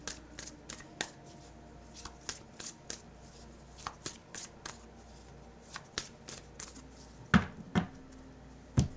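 Tarot cards are shuffled by hand close up, giving a run of quick soft riffling flicks and taps in an irregular rhythm, with a few sharper slaps near the end and no speech.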